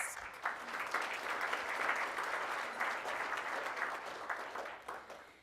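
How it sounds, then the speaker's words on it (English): Members at a Rotary Club of Tulsa meeting give volunteers a round of applause, a steady wash of many hands clapping at moderate distance that holds for about five seconds before tapering off. "let's give them a round of applause"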